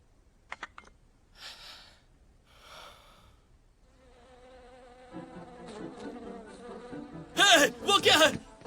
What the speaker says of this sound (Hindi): मधुमक्खी, जल्दी उसे यहाँ से बाहर निकालो वरना वो मुझे काट देगी।